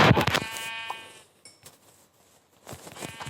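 Several sheep bleats in Minecraft, one near and loud at the start, then a fainter bleat later, with quiet gaps between.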